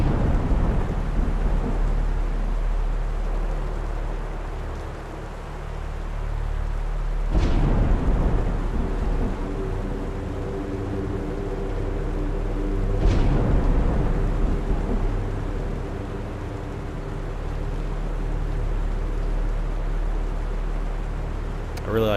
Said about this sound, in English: I really like that rain effect.